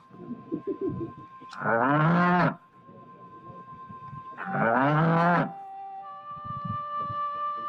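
A carabao, or water buffalo, lets out two long, loud moos a few seconds apart in a rural province setting, with people chatting faintly between and after the calls.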